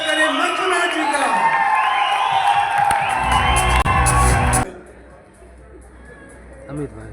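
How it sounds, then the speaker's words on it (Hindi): A seminar audience cheers and whoops in loud, sustained crowd noise to welcome a speaker, then abruptly cuts to quiet, with voices heard throughout. "जोरदार ताली के साथ स्वागत करें"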